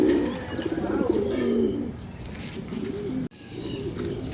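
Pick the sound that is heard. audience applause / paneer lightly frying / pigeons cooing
pigeons cooing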